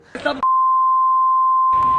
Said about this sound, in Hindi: मोदी जी को गाली दिया जा रहा है बीप लगा के